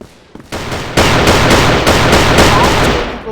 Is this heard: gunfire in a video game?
yes